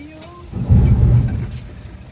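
A diesel D63 4x2 passenger jeep with a round exhaust idles, its engine rumbling up loudly and steadily after a brief quiet start, close to the listener.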